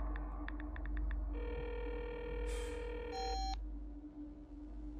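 An outgoing phone call is placed: a quick run of dialing beeps, then an electronic ringback tone and sustained beeps, heard clearly against a low hum with no voices.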